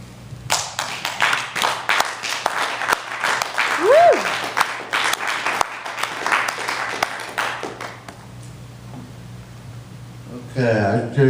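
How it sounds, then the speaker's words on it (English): Audience applause after a poetry performance at the Clinton Street Theater in Portland, Oregon, a burst of clapping that runs for about eight seconds before thinning out, with a steady low hum underneath and brief noises near the end. "Cue applause."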